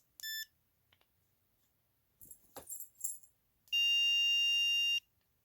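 An E-Collar Technologies Mini Educator remote training collar sounds its tone: a short high beep first, then a few soft clicks and handling rustles, and finally a long, steady electronic beep lasting over a second.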